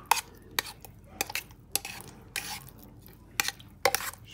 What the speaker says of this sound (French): Donc, je fais mon mélange tout doucement.